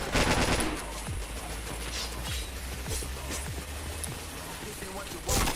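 Rapid automatic gunfire bursts in the shooter game Point Blank, repeated close volleys with mechanical clatter, louder at the start and again near the end.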